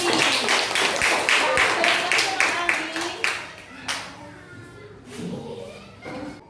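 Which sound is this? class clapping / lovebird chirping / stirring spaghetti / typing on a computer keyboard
class clapping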